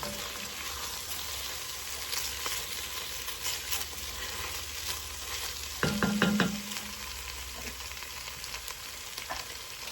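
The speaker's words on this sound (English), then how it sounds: "And kind of deglaze that pan, get those goodies off the bottom." A pan being deglazed for shrimp creole hisses steadily while a utensil stirs and scrapes the bottom, with a brief cluster of louder scraping knocks partway through.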